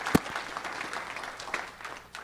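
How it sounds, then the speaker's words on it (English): Forum audience at a conference session giving a round of applause, a moderate patter of many hands clapping with a sharp clap near the start and a few louder claps scattered through. "how about a round of applause to all of them?"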